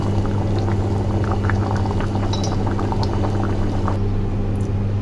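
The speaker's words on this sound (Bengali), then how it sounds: "এখন আমি পরিমাণ মতো একটু পানি দিয়ে নেব।" Water being poured into a pot of lentils cooking with beef, a steady liquid gush and bubbling with a constant low hum underneath and a few faint clinks.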